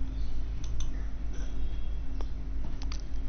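Several sharp, scattered computer mouse or keyboard clicks sound close by over a steady low electrical hum.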